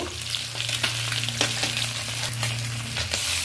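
Bhetki fish pieces shallow-frying in oil in a kadai, a steady close crackling sizzle with light spatter pops throughout, no voices.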